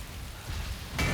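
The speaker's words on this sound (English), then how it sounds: "Overnight shelter in the rain." Steady rain pours in The Hundred Line: Last Defense Academy, a dense hiss of drops on surfaces with low rumbling underneath, swelling louder near the end, with no voices.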